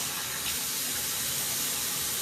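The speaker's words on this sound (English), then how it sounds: "I'm going to turn on the faucet" Tap water runs steadily from a sink faucet during handwashing in a lab, a continuous broadband rush with no pauses, close and fairly loud throughout.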